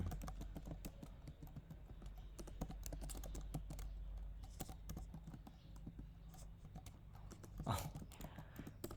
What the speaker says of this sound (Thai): มือก็พิมพ์ไม่ได้ดังใจ